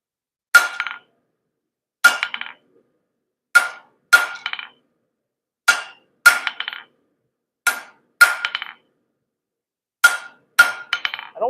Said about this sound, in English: We'll keep sectioning off that steel.